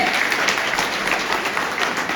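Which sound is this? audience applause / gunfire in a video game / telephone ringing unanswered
audience applause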